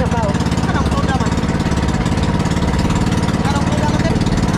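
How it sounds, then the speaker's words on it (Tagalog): A small engine runs loud and close at raised throttle, a steady rapid mechanical chugging hum that continues unbroken throughout with no clear talk over it. "palakasan daw konti yung makina"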